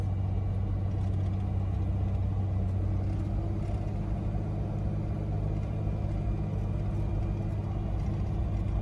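Car on its first road test after an A440 automatic transmission overhaul, pulling away under light throttle with a smooth, steady low engine hum and rumble, continuous and fairly quiet with no talk.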